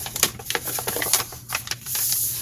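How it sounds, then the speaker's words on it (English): A sheet of paper is squeezed and crumpled into a small ball for a first-grade art lesson, giving a close, continuous run of crinkly crackles and sharp rustles with brief pauses, no voices. "And I'm going to squeeze and push and crumple."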